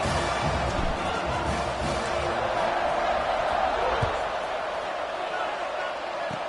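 A football stadium crowd roars before kickoff, a dense, loud and sustained wash of cheering that fades slightly toward the end, with a commentator's voice faintly in the mix.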